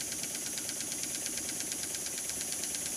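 Double-acting slide valve model steam engine running in reverse, giving a rapid, even chuffing and clicking rhythm that stays steady and close throughout, fairly quiet with no speech.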